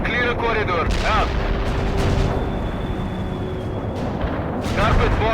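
Bombing run explosions in the World in Conflict video game, with a continuous heavy rumble of blasts and booms running through the whole stretch, loud and dense, mixed with radio-style voices talking over it.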